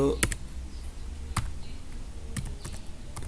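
Typing on a computer keyboard while entering custom screensaver text in Windows 7: a few scattered key clicks, close and fairly quiet over a faint room hiss.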